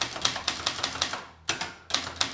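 Rapid, crisp keystrokes on a German typewriter, clacking in a quick uneven rhythm with a brief pause midway, close and loud with no talking.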